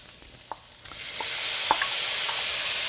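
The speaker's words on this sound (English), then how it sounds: "Now it's time to top this off with our diced tomatoes right here." Diced tomatoes land in a hot pan with a few soft knocks, then a rising, steady sizzle that swells and holds, close and without talk.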